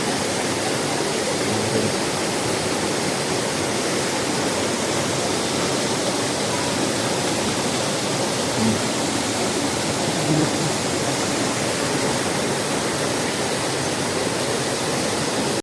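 Steady rushing stream water at Lolo on the Gunung Nuang trail, a continuous broadband wash with no pauses, close and fairly loud throughout, with no voices.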